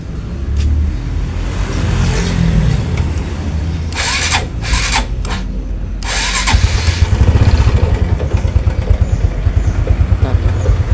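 Motorcycle engine cranked on the electric starter with a few short bursts, then catching and idling with a steady, close, loud chugging rhythm.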